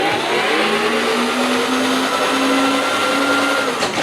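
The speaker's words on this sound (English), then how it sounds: "And both wheels go forward. Test reverse. Make sure the motors are working." The electric motors of an M18-swapped Power Wheels ride-on car drive forward with a loud, steady, high whine, close by and without pause.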